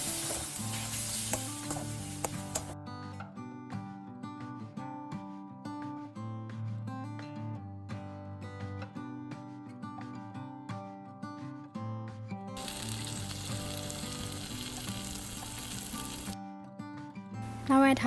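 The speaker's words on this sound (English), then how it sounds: "Add in chopped tomatoes and add some salt to cook them nicely." Chopped tomatoes with salt cook in a pan, and a loud sizzling hiss appears in two bursts, at the start and again later, over steady background music.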